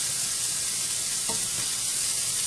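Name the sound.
vegan burgers searing in a frying pan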